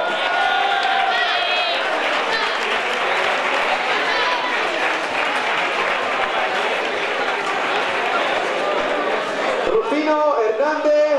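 A crowd at an urban mile and half-marathon race applauds and cheers the three winners, with continuous loud clapping and chatter, and a voice speaking over it near the end.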